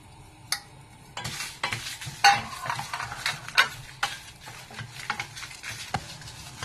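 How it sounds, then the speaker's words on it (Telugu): Clattering spatula scrapes and taps against a pan in an irregular rhythm over a low sizzle of stir-frying vegetables for capsicum rice, close up, with no voices. "ఇప్పుడు ఇవన్నీ ఒక్కసారిగా మొత్తంగా పోసేసి వేయించుకోవాలండి"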